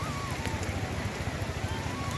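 Heavy rain pours during a Rathayatra chariot festival outing, a dense, close, steady patter with scattered drops hitting surfaces.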